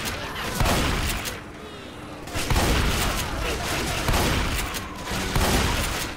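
Shotgun fire in Left 4 Dead 2 VR, heavy booming blasts repeating every second or two, loud and close over a busy game background.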